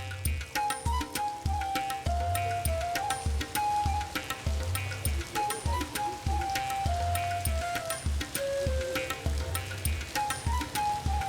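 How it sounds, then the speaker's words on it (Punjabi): Artificial rain falling steadily, a continuous patter of drops with sharp ticks over a low, rhythmic mechanical hum that repeats throughout. "ਇਹ ਮੀਂਹ ਕਿਵੇਂ ਪੈ ਰਿਹਾ"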